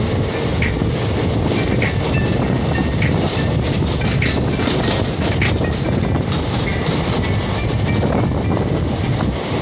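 A train runs along the railway near Lonavala on a rainy night, a loud continuous rumble with rhythmic clickety-clack from the wheels and a faint squeal, with no talk over it.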